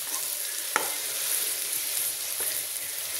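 Chopped onion with chillies frying in a pan gives a loud, continuous sizzle, broken by two sharp utensil clacks against the pan.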